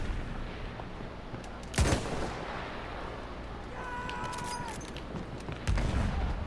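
Gunfire from a Battlefield 1 battle, with two sharp, heavy blasts standing out against a dense, continuous din of combat noise at a moderate distance.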